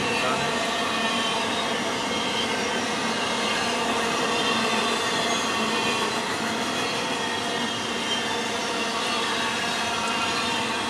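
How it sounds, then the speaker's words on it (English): A long freight train of tanker cars rumbles past close by in a loud, continuous roar of rolling wheels and rattling cars, steady throughout with faint metallic squeals. "Look at how long this train is."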